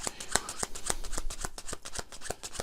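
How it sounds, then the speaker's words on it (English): Close-up riffling of a small stack of playing cards, a quick series of crisp snaps and flutters in uneven bursts. "Let me give you a little packet of cards, just shuffle into that."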